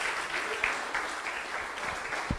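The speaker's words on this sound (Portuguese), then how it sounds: "E você glorifica a Deus bem forte com suas palmas." A church congregation claps in praise during a worship service, steady dense applause at moderate distance with no voices over it.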